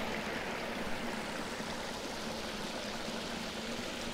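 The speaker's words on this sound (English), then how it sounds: "So our first real waterfall." Steady rushing water pours and splashes continuously nearby from a small waterfall in a creek, a small cascade with an even, unbroken hiss and no voices.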